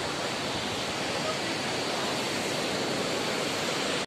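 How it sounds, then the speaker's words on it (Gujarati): A mountain stream waterfall on the Yamunotri trek roars close and loud, a dense, unbroken wash of falling water that fills the short stretch and cuts off sharply. "કેવું ઝરણું જો પાણી કેવું સરસ પડે છે"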